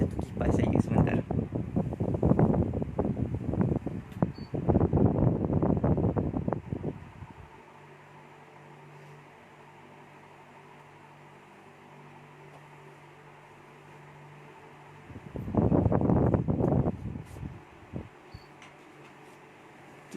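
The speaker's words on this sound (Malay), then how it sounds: "Saya rasa tu kipas saya sebentar." An electric fan near the microphone gives a steady low whir and breathy wind noise, heard clearly in a long pause between stretches of someone talking.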